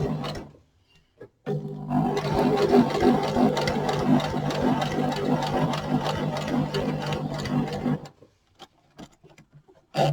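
Sewing machine stitching a small earbud pouch, a fast steady mechanical whir lasting about six seconds after a brief start, then stopping, close and fairly loud with no talk.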